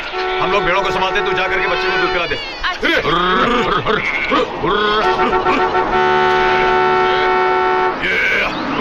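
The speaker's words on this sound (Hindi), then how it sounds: "इडियट्स, हॉर्न बजा रहे हो, सुनाई नहीं देता है क्या?" A car horn honks repeatedly on a village road where sheep block the way; loud tonal blasts come in bursts and overlap with a person talking and general crowd noise.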